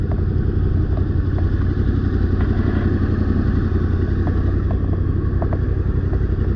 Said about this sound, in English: This is my first ride on the Tenere 700